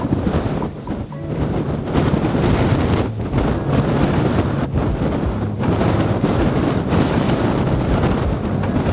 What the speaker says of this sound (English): With this wind, it's very difficult to stay still.